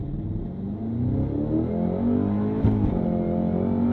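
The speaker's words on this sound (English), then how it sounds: "pinning the throttle, holding revs, letting go of the clutch" Cadillac CT5-V Blackwing launching with launch control in first gear, engine rising steadily in a loud, continuous revving climb with a brief shift blip midway, no voices.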